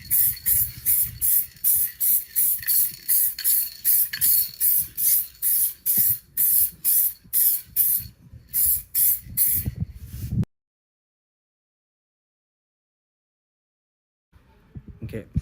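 A spray can lays paint onto a car bumper in a rhythmic series of short, loud hissing bursts for about ten seconds, followed by silence and a faint final spurt.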